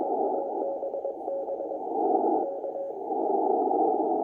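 A Morse code CW signal on amateur radio comes through as a steady, faint tone that keeps on and off under a thick bed of band noise.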